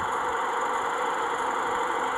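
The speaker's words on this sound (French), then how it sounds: "On va reprendre notre tracteur." Tractor engine in Farming Simulator 14 on Android, a steady continuous mid-pitched drone humming evenly without change, heard alone at moderate volume.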